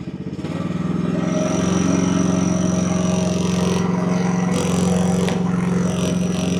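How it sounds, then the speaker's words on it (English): AGT WH12R mini excavator engine opened up with throttle, a small engine quickly rising to a loud, steady, buzzing drone with rattling vibration, close by and continuous, no voices. "So I am going to have to give it some throttle."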